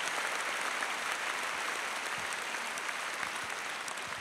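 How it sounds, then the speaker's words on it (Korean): Church congregation applauding a married couples' choir after a special hymn, a dense continuous wash of clapping from a large crowd, steady and fairly loud throughout with no voices. "박수하세요"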